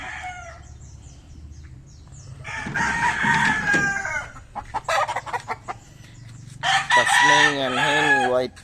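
Backyard roosters of several breeds, including Tasmanian and White Hatch types, crow loudly in repeated bursts while hens cluck between calls in a small home flock.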